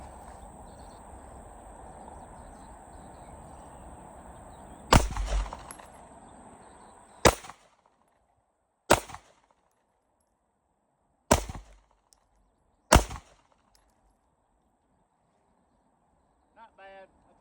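Five loud pistol shots from a Springfield Ronin EMP on an outdoor range, spaced a couple of seconds apart over a faint background hum of insects.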